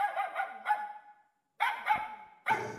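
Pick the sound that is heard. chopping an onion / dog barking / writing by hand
dog barking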